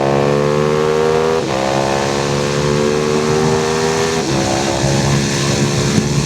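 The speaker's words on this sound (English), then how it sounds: "The tune is great. The exhaust runs great. It sounds amazing." A KTM 1290 Duke motorcycle fitted with a new exhaust and mid pipe runs loud and close, a steady, rich engine drone with tones that climb slightly as it revs, and no talking.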